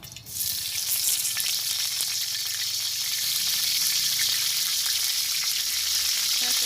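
A bay leaf drops into hot oil in a wok and a loud, steady sizzle bursts up almost at once, then holds bright and continuous to the end without any voices.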